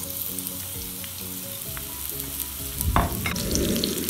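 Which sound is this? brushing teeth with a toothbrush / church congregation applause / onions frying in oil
onions frying in oil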